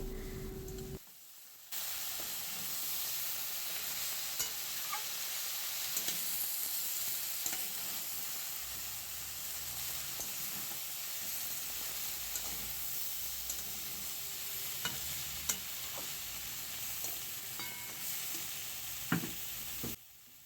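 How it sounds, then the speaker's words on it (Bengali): Broccoli curry with grated ginger and chopped green chillies sizzles steadily in a pan as it is stirred, a continuous close frying hiss with occasional scraping clicks and no talking. "আবারও ভালোভাবে নেড়েচেড়ে নেওয়া হচ্ছে"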